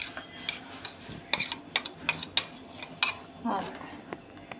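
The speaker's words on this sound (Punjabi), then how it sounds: "ਹੁਣ ਇਹਨੂੰ ਆਪਾਂ ਇੱਕ ਕਟੋਰੀ 'ਚ ਕੱਢਦੇ ਆਂ" Green chutney is scooped out into a small bowl: a run of sharp utensil clicks and taps against the dish, irregular and close, with a brief scraping swish near the end.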